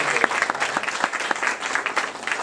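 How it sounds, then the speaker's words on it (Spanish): An audience at a talk on cinema and literature claps steadily, a dense and fairly loud burst of applause lasting a couple of seconds, with faint voices mixed in. "un aplauso para nosotros."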